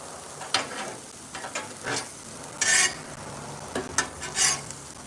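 Chopped onions tossed and stirred on a hot griddle while cooking for smash burgers, with a steady sizzle under several scraping, clattering spatula strokes and brief louder bursts of frying.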